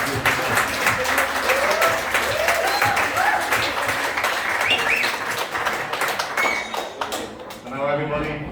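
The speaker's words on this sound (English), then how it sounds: "So just have a round of applause" Wedding guests at a reception give the bride a sustained round of applause, a dense, steady wash of many hands clapping with voices calling out over it. The clapping thins toward the end.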